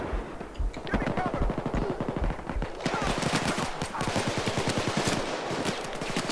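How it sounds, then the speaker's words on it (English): Automatic gunfire from a bank heist in the video game Payday 2, with dense rapid bursts of shots rattling steadily throughout at a moderate level. "They're shooting at me"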